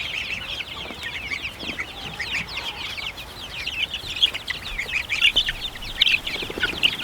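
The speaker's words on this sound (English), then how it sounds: "Those are Icelandics, Mama's barnyard chickens, doing great." Icelandic barnyard chickens cluck and chatter together in a busy flock, close by and steady, with sharper squawks rising toward the end.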